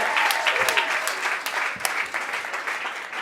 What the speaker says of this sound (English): please put a healthy round of applause together and welcome Derrick Weston Brown